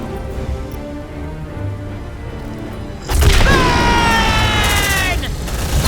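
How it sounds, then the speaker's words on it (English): A grenade explodes in the sci-fi squad game Aliens: Dark Descent with a sudden loud boom. A rumbling burst and ringing tones follow, over ongoing game sounds. "Grenade!"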